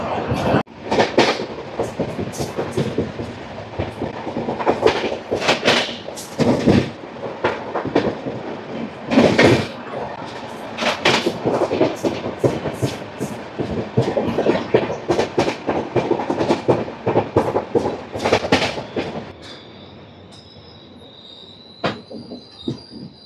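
Rayalaseema Superfast Express rolling at about 108 km/h on a double electrified line, with loud continuous rumble, rapid rhythmic wheel clatter and squealing, easing to a quieter steady hum near the end.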